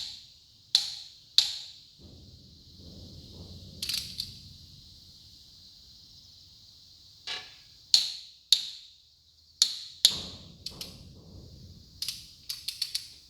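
Torque wrench clicking while cylinder head bolts are tightened on a Massey Ferguson MF135 6-speed tractor: sharp, isolated clicks spaced a few seconds apart, close and crisp, over a faint low workshop rumble, with no talking.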